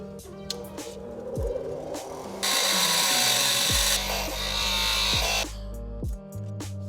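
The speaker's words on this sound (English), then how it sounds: "So we're here at the bench grinder. We just gotta sand this guy down a couple mil." A bench grinder grinds down a part for a custom Transition Spire mountain bike, a loud harsh rasping whine lasting a few seconds amid workshop knocks and handling sounds.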